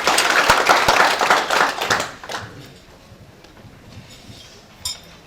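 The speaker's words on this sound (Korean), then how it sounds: "여러분 큰 박수 부탁드리겠습니다." An audience at a Busan council forum applauds for about two seconds, a loud burst of clapping that quickly dies away into a quiet room, with one faint tap afterward.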